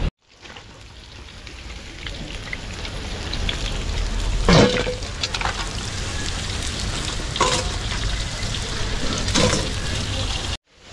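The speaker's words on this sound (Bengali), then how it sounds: "এটা চিলি চিকেনের পকোড়া ভাজা হবে" Chili chicken pakoras frying in oil at a street food stall in an office district: a steady loud sizzle runs throughout, with several sharper crackling bursts as pieces are stirred, and no clear talking.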